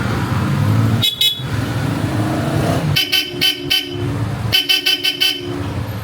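Two bursts of rapid horn honks from a Bosch Europa horn fitted to a Yamaha Nmax V3 scooter, a short double beep followed by two quick series of loud toots, over a running engine nearby.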